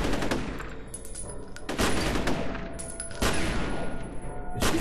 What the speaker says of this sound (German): Wir schießen da schon wieder so wie ein Trottel gegen die Wand